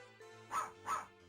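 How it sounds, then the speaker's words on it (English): Two sampled dog barks from the Casio Loopy game Puppy Love Story (Wanwan Aijou Monogatari), short chip-produced yaps in quick succession over a faint steady musical backing. "One of the chips in the cartridge for Puppy Love Story is dedicated to the dog bark samples."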